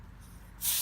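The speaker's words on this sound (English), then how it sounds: "An annoying amount of air coming out when I took the valve off there" Air hisses out of a car tyre valve on a Peugeot 205 GTI track car, a sudden broadband rush starting partway through after a low rumbling background, close and fairly loud.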